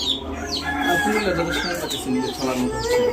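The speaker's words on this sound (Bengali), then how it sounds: "উনি রুমের মধ্যে বিদেশি মুরগিগুলো রাখে" Several foreign-breed chickens kept indoors in a room cluck and squawk close by, their calls overlapping continuously with a faint hum beneath.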